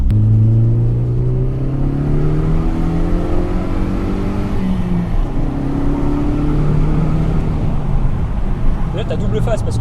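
A 2012 Ford Focus ST MK3 estate with a 2.0 litre Ecoboost engine revs and accelerates loudly, its droning engine note rising in pitch several times, heard from inside the car.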